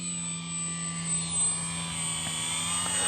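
FMS Ranger 1800mm RC model airplane doing a one-wheel touch and go on grass, its electric motor a steady whining drone with high tonal overtones, moderately near and continuous, no voices.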